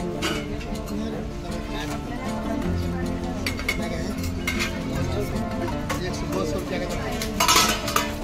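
Heavy lids and plates clink and clatter together as they are handled in a busy Mumbai Dmart store, with scattered metallic knocks over a constant crowd murmur and voices, ending in a brighter clang.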